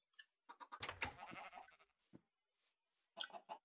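Sheep in the Minecraft video game bleating in several short, close bursts separated by brief pauses, with a louder cluster near the start and another near the end.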